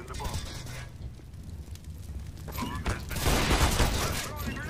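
Gunfire from the Counter-Strike video game, a burst of shots with a louder stretch near the end, heard under excited voices talking throughout.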